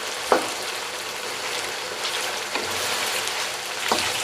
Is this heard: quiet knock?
no